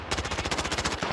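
A fast, steady burst of automatic gunfire in a video game shooter, evenly spaced shots rattling continuously for about a second at moderate loudness.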